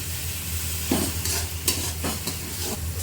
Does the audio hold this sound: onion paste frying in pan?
yes